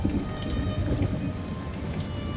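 Steady rain falls outside in a dramatic scene, a dense continuous hiss with occasional low rumbling beneath, and no talking over it.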